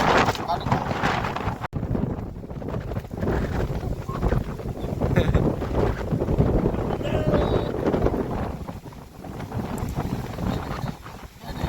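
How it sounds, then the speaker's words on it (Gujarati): Strong wind during a cyclone buffets the microphone in a steady broadband roar, with voices faintly present beneath the gusts. "પવન વધારે છે"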